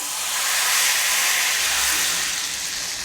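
About two tablespoons of hot oil (mohan) are poured into besan dough for besan poli, giving a steady, close, bright sizzling hiss that swells slightly and holds throughout, with no talking.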